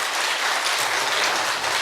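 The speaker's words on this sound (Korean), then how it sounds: "우리 목사님 나오실 때 뜨거운 박수로 우리 환영하도록 하겠습니다" A church congregation at a Sunday worship service applauds warmly to welcome a missionary pastor to the pulpit. The clapping is dense, steady and continuous, filling the room with no voices over it.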